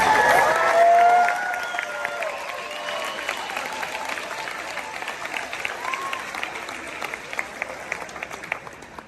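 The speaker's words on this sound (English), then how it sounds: "Let's give them a big round of applause." Audience applause and cheering for Pedro and Suzette Adeo, loudest in the first second with a whooping cheer, then settling into lighter sustained clapping with scattered sharper claps.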